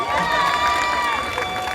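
An audience claps and cheers at a live Rwandan show, a dense, steady wash of applause and crowd noise with a tonal musical layer running underneath throughout.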